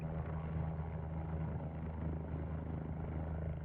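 A video-game helicopter approaching a skyscraper helipad gives a steady, close rotor thrum with a low continuous engine drone, even in level throughout the short stretch.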